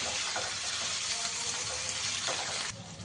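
A spice paste with a splash of water sizzles in a pan for a prawn and taro curry, giving a close, continuous bubbling hiss with a couple of soft stirring scrapes before it eases off.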